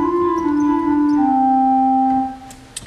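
Moller pipe organ playing its nazard stop, sounding a twelfth above, together with another stop: a loud, sustained reedy-flute tone holding a note, stepping down slightly, then releasing into a reverberant church tail.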